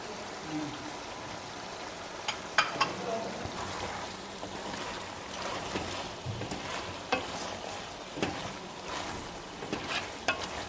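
Steady sizzling of garlic-ginger paste frying in a pan for bhindi gosht, with occasional scrapes and clinks of a spoon stirring it.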